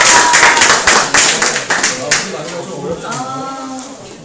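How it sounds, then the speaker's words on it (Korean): An audience applauds at a live quiz-style talk session featuring a social worker, with a burst of dense hand claps over roughly two seconds that thins out as a voice begins speaking. "박수 주시죠."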